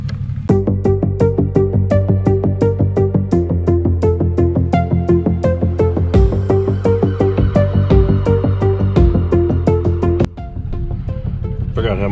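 1966 Chevrolet El Camino with a 700R4 transmission idling and driving, a steady, close, loud engine with an even rhythmic pulse and a brief drop in level near the end.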